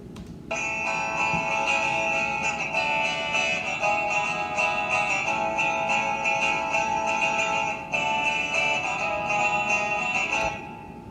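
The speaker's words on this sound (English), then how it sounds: "what I want to demonstrate here is the guitar noises" A dry guitar stem without any effects rings out as sustained, steady chords held for about ten seconds, clear and close before stopping abruptly.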